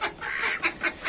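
Ducks in a backyard aviary give a few short, nasal quacks close by, repeated in an uneven run.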